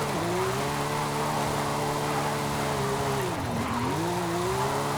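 A Porsche 911 slides through a corner with a continuous loud engine note at steady high revs that dips briefly and climbs again. Tire noise runs beneath it throughout, with no talking.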